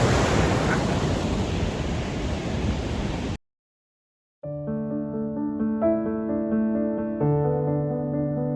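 Loud, steady rushing water along the Great Glen Way roars for about three seconds, then cuts off abruptly. After a short silence, unrelated music plays.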